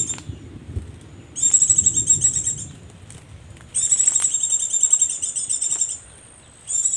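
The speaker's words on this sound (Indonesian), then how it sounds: "Ini burung tricolor fins atau bambu fins ya, atau pipit biru." Tricolored munias (bamboo finches) call on Timor near Kupang, East Nusa Tenggara: thin, high, sustained piping notes come in long, loud stretches with short gaps between them, over faint background rustle.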